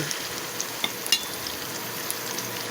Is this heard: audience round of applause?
no